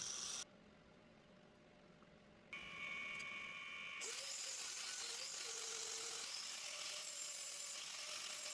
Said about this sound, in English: Grind to the line.